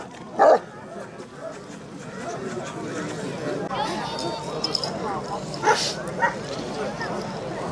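Turkish shepherd dogs at a dog festival bark and yip amid a busy outdoor crowd, with a sharp nearby bark early on and further barks later over constant chatter and voices.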